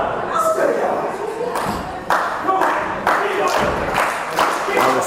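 A wrestling arena crowd claps and cheers in rhythmic bursts, loud and fairly close, while commentators talk over the noise throughout.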